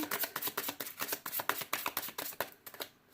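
A tarot deck is riffle-shuffled close up, giving a quick run of crisp card flutters and taps that stops just before the end.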